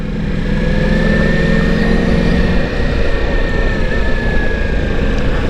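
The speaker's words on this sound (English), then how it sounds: "Downshift. You got to do a lot of downshifting on bikes like this." Loud, steady Ducati Multistrada V4S Pikes Peak motorcycle engine drone up close with constant rumble and a slight shift in pitch midway as it downshifts, heavy wind noise throughout.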